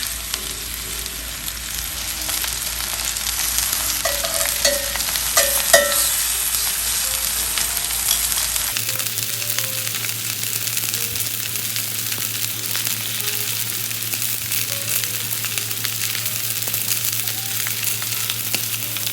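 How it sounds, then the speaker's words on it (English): Oxtail pieces searing in vegetable oil inside a Staub pot for Cuban oxtail stew, giving a steady close sizzle and frying crackle that runs through the whole stretch with a few brief sharper pops. "we're gonna go ahead and sear each side until golden brown"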